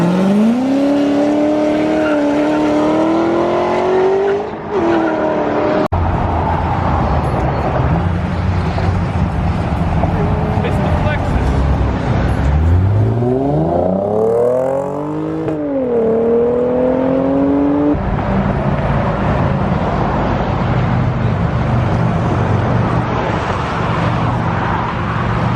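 1600 hp twin-turbo Lamborghini Aventador accelerating away from a Cars and Coffee meet in Cypress, a loud engine roar rising and falling in pitch through gear changes, with a hard second pull midway, over crowd and traffic ambience.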